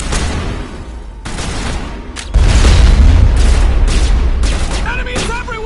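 Gunfire and heavy explosions from the video game Mass Effect 1 erupt in loud bursts, with a deep booming blast midway followed by sustained rumble and scattered shots, while voices shout over the battle.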